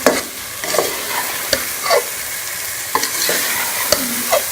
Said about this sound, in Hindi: मैं इसको अच्छी तरह से घी अलग होने तक भून लूँगी।